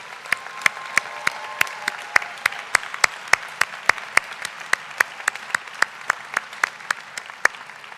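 Audience at a college convocation ceremony clapping: a sparse, steady patter of individual hand claps at moderate distance that continues evenly throughout.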